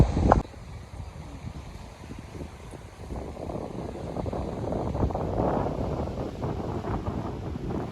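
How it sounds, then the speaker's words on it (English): Wind gusts at a small rocky beach in Goa in the afternoon, buffeting the microphone with a steady, rumbling roar and rustle that swells a little toward the end, with no speech. "It is windy"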